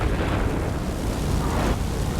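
A bomb detonates from a P-38L Lightning heavy fighter in a flight combat video game, a loud, sustained broadband rumble that roars steadily for about two seconds with a slight swell near the end.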